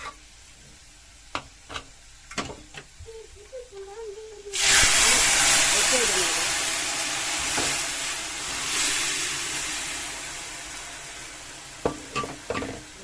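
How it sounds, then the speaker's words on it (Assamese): Pieces of fish going into a hot pan erupt in a sudden loud hiss and sizzle that swells, then gradually settles to a steady crackle, with sharp utensil clicks and taps before and after. "এতিয়া মই ইয়াতে মাছ দালিখিনি বাকি দিম"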